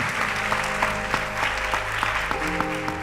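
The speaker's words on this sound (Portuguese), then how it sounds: "Eu peço uma salva de palmas a este" An audience at a conference applauds a panel, a full, even burst of clapping under steady musical tones, lasting about three seconds before thinning out.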